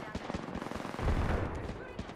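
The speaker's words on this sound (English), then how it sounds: "That team is just shooting us like fucking." Gunfire in the video game Apex Legends, dense rapid shots that blur into a continuous rattle and swell louder midway, with faint voices underneath.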